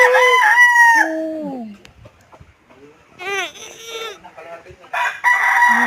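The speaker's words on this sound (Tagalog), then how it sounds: "ang mga manok ni Kuya Max, mga panabong" Gamecock fighting roosters crow loudly in long, drawn-out calls, one near and others answering, with short clucks and pauses between.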